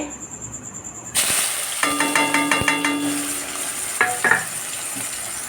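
Spices and vegetables hit hot oil in a pan on a gas stove, a sudden loud sizzle that settles into steady frying hiss with stirring clinks and scrapes of a utensil against the pan.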